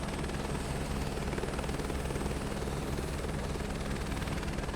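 Helicopter in Microsoft Flight Simulator 2024 lifting off, a loud continuous rotor and engine drone with steady low thrum and high whine, filling the whole stretch alone.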